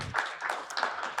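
Audience at an AI symposium clapping, a soft, somewhat distant patter of many hands in a steady, fairly quiet burst.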